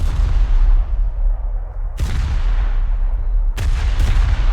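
Gunfire in the VR flight combat game Aces of Thunder, with sharp bursts of shots cracking at about two and three and a half seconds over a steady low engine rumble and booming wash.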